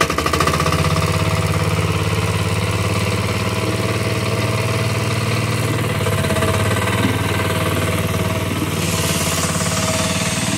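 A homemade two-wheeled walk-behind tractor's small engine idles and chugs steadily close by, a rough, even mechanical drone that runs throughout.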